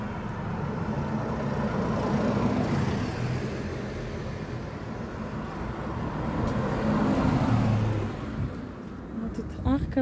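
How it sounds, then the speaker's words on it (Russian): A car rolls past on a street near a grotto with cast-iron fixtures, its engine rising and fading in a gradual swell over about ten seconds while a person speaks close by. "Сейчас машину пропущу."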